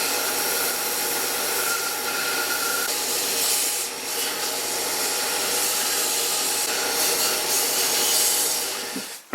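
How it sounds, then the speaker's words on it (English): A power sander shapes a wooden part for a small chair restoration, giving a continuous grinding, rubbing rasp that holds steady for about nine seconds before trailing off. "after a bit of shaping on the sander"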